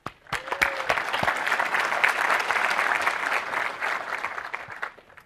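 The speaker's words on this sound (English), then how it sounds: "let's give them a big round of applause, guys." An audience at a tech conference on Windows Server applauds a presenter being introduced, a few sharp early claps swelling into steady, even applause that holds for several seconds and tapers off at the end.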